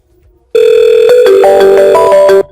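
A telephone tone on a VoIP call sounds loudly and steadily for about two seconds, its pitch stepping through several tones before cutting off into near silence.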